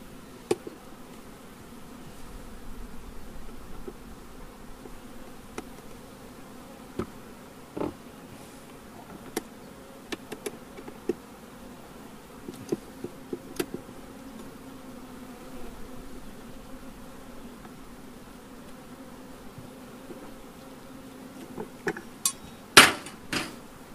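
Honey bees hum softly and steadily in an open wooden hive box, a faint low buzz broken by scattered clicks and knocks of hive parts, louder clatter near the end.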